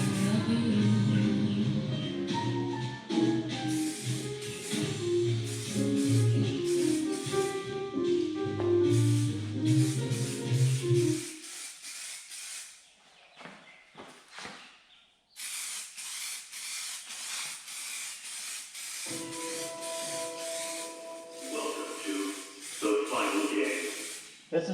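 A spray gun lays a second coat of clear onto a repaired 2500HD truck rocker panel in quiet, hissing bursts of varying length, with a silent pause midway before spraying resumes.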